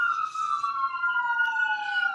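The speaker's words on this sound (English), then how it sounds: "It does not ever happen without screaming sirens in every video" A wailing siren slowly falls in pitch, steady and fairly loud, with no one talking over it.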